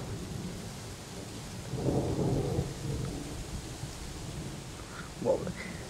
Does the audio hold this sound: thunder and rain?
yes